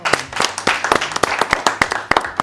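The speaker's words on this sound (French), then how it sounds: "On l'applaudit." Audience clapping for a quiz contestant on a general-knowledge game show, a small group of hands giving sharp, close, rhythmic claps in a short burst.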